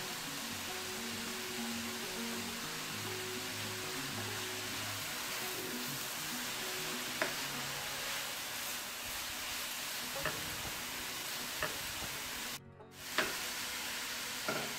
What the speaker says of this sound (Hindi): अब जो शेड किया हुआ मैंने चिकन रखा था वो मैं शामिल करूँगी।